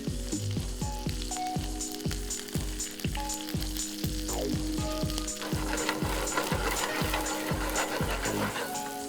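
Grated garlic frying in butter in a pan, a continuous crackling sizzle under a regular run of sharp metallic knocks and clacks from a utensil, with the sizzle growing brighter and busier toward the end; no voices.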